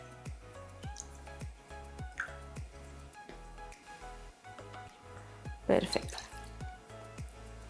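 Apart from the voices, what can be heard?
water added to a saucepan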